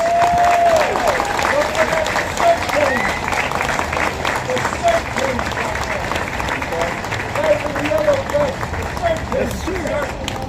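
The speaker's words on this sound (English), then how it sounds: "Please give them all a big round of applause." A street crowd at a Memorial Day parade in Brooklyn claps and cheers for passing veterans, sustained outdoor applause with scattered whoops, mixed with crowd murmur and a voice talking over it.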